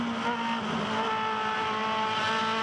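Aussie Racing Cars race cars accelerate hard at Winton in a 2011 race, their engines a loud, sustained, tonal drone heard up close with no talk.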